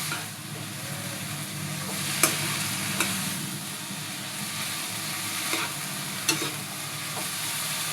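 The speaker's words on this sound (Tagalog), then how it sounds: "At halo na natin yung niluto natin kaninang meat. Halo na po natin sa veggies, sa mga gulay." Cooked meat stirred together with mixed vegetables in a hot pan for pancit, a continuous frying sizzle with occasional sharp scrapes and clacks of the utensil, close and steady, with no voices.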